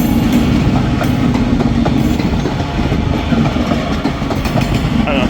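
Class 331 electric unit 331019 pulls out of Manchester Piccadilly with a loud, steady rolling rumble and a rhythmic clickety-clack of wheels on rail joints, close by and continuous throughout.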